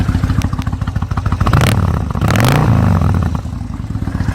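A 2007 Kawasaki Vulcan 1600 Nomad motorcycle engine idles with a throbbing exhaust, then revs up loudly twice before settling back, close and continuous.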